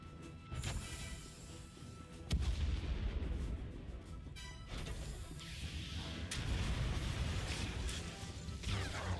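Starship guns in the Star Wars The Old Republic video game pound in heavy booming volleys, loud and continuous, mixed with crashes and whooshes of space combat, with no voices.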